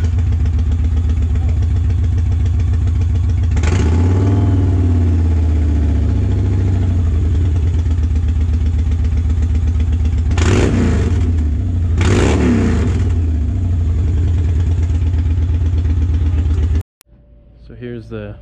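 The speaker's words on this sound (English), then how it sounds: "make sure his bike still starts" A dirt bike engine idles steadily, then blips its throttle in three sharp revs, one early and two close together later, before cutting out abruptly; close and loud throughout.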